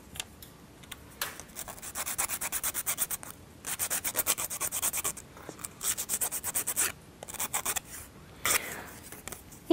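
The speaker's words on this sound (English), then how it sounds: "Sanding allows to prevent wear and tear of the strings." Rhythmic back-and-forth sanding of a wooden part of a Ugears hurdy gurdy model kit, close and quiet, in repeated bursts of rapid scratchy strokes with short pauses.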